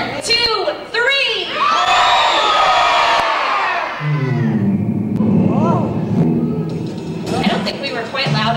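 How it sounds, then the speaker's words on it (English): An audience of children at a live Bear in the Big Blue House show in 1999 yelling together, a loud burst of shouting and cheering that swells into a sustained roaring crowd, with an adult voice mixed in. "let's all yell, hey!"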